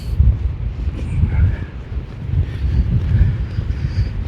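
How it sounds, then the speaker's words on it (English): Strong blizzard wind buffeting the microphone, loud low rumbling gusts that swell and fade, with a faint voice in the background. "That Wind will be right in my face."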